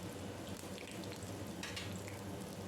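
Minced garlic sizzles and fries steadily in a pan of coriander-leaf pickle while being stirred, a close, continuous hiss with faint scraping, no talking.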